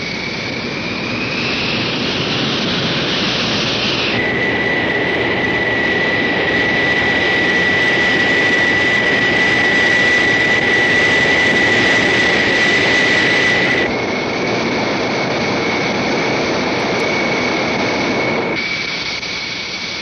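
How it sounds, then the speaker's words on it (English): A loud, steady SR-71 Blackbird jet engine roar during an engine trim run, with a high whine running throughout, swelling in the middle stretch and easing slightly toward the end. "Final engine trim run is made."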